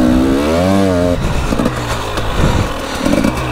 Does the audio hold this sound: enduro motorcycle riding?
yes